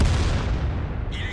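A tank cannon shell fires in World of Tanks, a single heavy, rumbling boom that rolls out and decays over about a second, ending in a brief higher-pitched ring.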